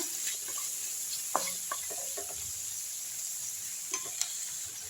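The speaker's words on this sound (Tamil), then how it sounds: "எல்லாம் சேர்த்து நல்லா வதக்கி விட்டுருங்க." Tomato and spices sautéing in a pan for idiyappam kichadi, a steady soft sizzle with occasional spoon scrapes and stirring taps.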